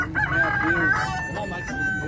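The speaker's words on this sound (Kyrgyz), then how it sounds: "Бул жакта да короз бар экен." A rooster crows at a busy poultry market, its drawn-out cry rising clearly above hens clucking nearby and faint background chatter.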